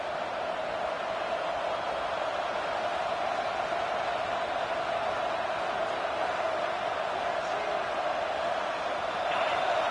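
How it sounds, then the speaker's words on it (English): Stadium crowd roaring in a football video game, a dense steady wash of cheering noise with no distinct voices, constant in level throughout. "Listen to this crowd just shaking the girders of this place, trying to help their defense"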